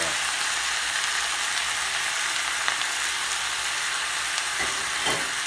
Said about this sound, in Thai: นี่ก็ผัดผัดผัดผัด น่ารับประทานเชียว